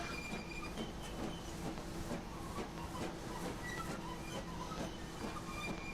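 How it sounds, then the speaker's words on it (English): LMS Black 5 steam locomotive pulling away, its exhaust barking in a rhythmic series of chuffs at moderate distance, mixed with rolling train noise and a faint wheel squeal. "Black 5 has a nice bark on it."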